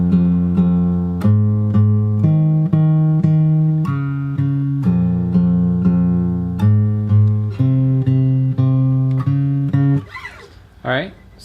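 Fingerstyle acoustic guitar picks the chorus bass pattern of a song, a steady sequence of plucked low notes with ringing upper strings, alone and close, ending in a brief squeak of fingers sliding on strings.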